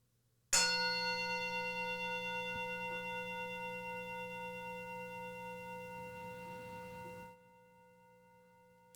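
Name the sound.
meditation bell struck once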